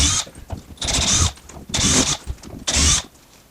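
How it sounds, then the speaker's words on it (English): A power screw remover whirs in short bursts as screws come out of a Best Tugs Alpha 3, three or four buzzing runs separated by brief pauses, close by. "My handy screw remover here."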